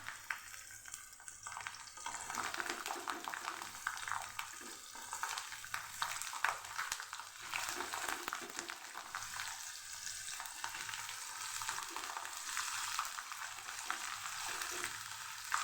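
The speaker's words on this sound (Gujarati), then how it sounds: "જે લસણની કળી ફોલાઈને લીધેલી એ ઉમેરી દઈશું અને એને આપણે સાતળી લેવાની છે" Peeled garlic cloves sauté in a pan with oil for a Gujarati garlic curry, giving a steady, close, dense sizzle and frying crackle that runs unbroken throughout, with occasional stirring scrapes and no talk.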